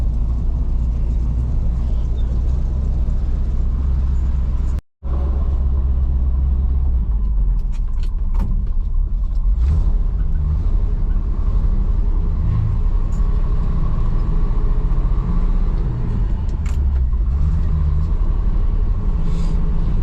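A pickup truck with a manual transmission, left sitting in a barn most of the summer, drives with a loud, steady engine rumble and low drone, briefly cutting out for a moment before continuing.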